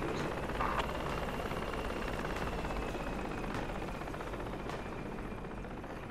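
Helicopter rotor chop and turbine drone from the tactical military shooter Project Reality, a loud steady wash filling the whole stretch with faint distant gunfire-like ticks.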